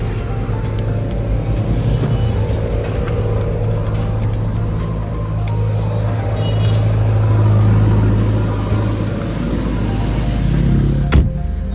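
A car driven home in the morning around Dapoli, with a steady engine hum and road rumble running close and continuous, no talk.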